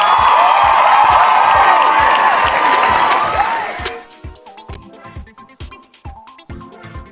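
Canned applause from a clap track swells loud and dense with cheering for about four seconds, then fades into scattered, sparse claps.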